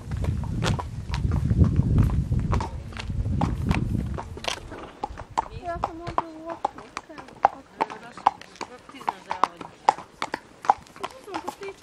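A mare's hooves clip-clop on hard ground in an irregular walking rhythm, close by, with a rumbling noise early on and a person speaking at one point.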